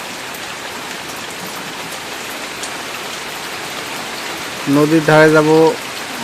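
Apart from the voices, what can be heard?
light drizzling rain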